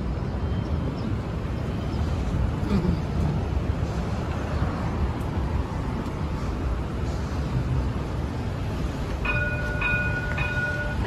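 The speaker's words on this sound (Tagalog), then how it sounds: "Ayan na yung tram." A tram rolls past on its rails, a loud, sustained rumble of wheels and carriages that holds steady close by, with a brief tonal horn or bell sounding near the end.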